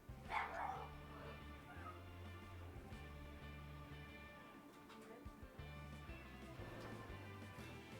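A dog barking faintly in the background behind steady indoor hum, with a single brief yip near the start and little clear barking after it.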